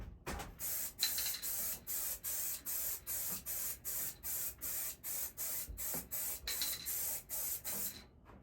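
An aerosol spray can releases about fifteen short, sharp hissing bursts in a regular rhythm, each lasting around a third of a second, loud and close, with no talking.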